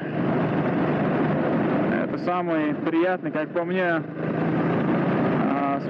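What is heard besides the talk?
Honda CB 400 SS motorcycle engine at low revs while riding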